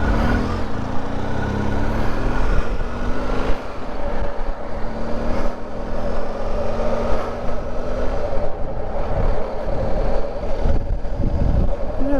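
A BMW R 1250 GS Adventure motorcycle rides along a road with a steady engine drone under heavy wind rush, and the engine note shifts slightly as it changes gear.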